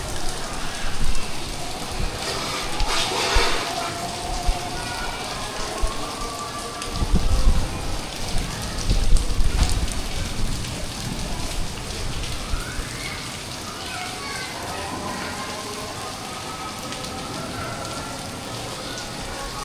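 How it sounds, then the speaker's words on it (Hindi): Heavy rain falling outside, a dense steady hiss of drops striking surfaces with brief louder splashing bursts, recorded nearby. "बारिश तो बहुत जानदार हो रही है"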